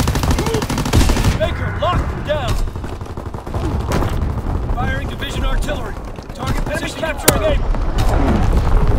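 Dense battlefield din in Call of Duty WWII multiplayer, with continuous gunfire, bursts of machine gun fire and booms beneath chirping voices and radio chatter, loud and cluttered throughout.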